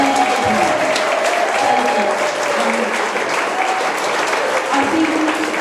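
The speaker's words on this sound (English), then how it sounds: "would you please give a big round of applause to the committee and to Mary and to Andrea and Michael and everybody else" Audience at a Brisbane folk history book launch giving a big round of applause to the organising committee, a loud, dense, continuous clapping that holds steady throughout, with some voices mixed in.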